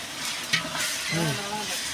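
A steady hiss and sizzle of onions frying golden in a pan for turkey biryani, with a voice talking briefly over it.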